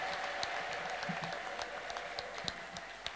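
Church congregation applauding during a testimony service, a steady moderate wash of clapping with scattered sharper claps, fairly even throughout.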